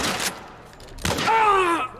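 Gunfire in The Last of Us Remake on PS5: a sharp burst of shots opens the clip and another loud blast follows near the middle, trailing into a whining, ringing tail.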